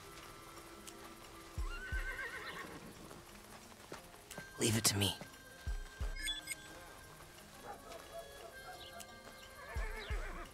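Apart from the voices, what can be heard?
horses neighing and hooves, Desperados III video game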